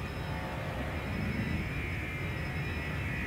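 A spaceship in the Elite: Dangerous video game comes in to dock on approach, a steady, loud engine roar and whine holding evenly throughout, with no talking.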